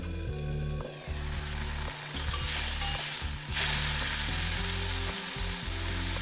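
Bitter gourd with a little water and turmeric simmers on a low gas flame, giving a steady close sizzle and bubbling over a constant low hum, with no talking.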